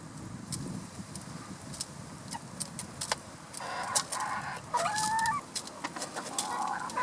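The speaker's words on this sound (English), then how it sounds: "He already started to crow" A rooster crows clearly amid clucking hens and rustling, with a car passing faintly in the background.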